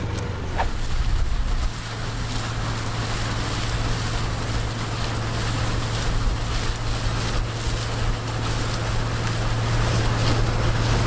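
Loud, constant wind roar buffeting the microphone during a harvest, with a low steady engine hum underneath throughout.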